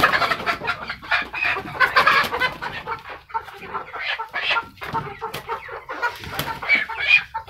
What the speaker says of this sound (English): And I will get the chicken.